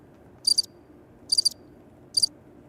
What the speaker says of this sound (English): Bart K uses crickets a lot.